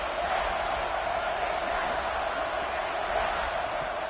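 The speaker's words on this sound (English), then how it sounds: "the crowd coming to life here trying to help this defense down in the red zone" Stadium crowd noise in College Football 26 swells into a steady, broad roar as the defense digs in near the red zone, a sustained wash of distant cheering with no clear breaks.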